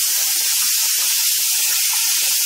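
Tomato puree hitting a hot pan of cooking liver, giving a loud, close, continuous hiss and sizzle with crackling bursts throughout.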